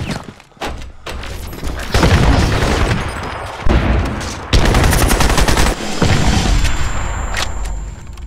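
In Crysis multiplayer, a grenade explodes amid sustained gunfire: dense bursts of automatic fire and heavy thuds, loud and close, carry on continuously with brief gaps.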